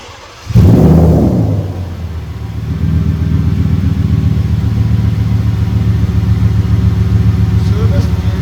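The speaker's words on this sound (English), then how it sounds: "Does she have an aftermarket exhaust system? She sounded really loud." A crash-damaged Audi S6 V10 starts with a loud burst, then settles into a deep, rumbling idle from a throaty exhaust, steady and close.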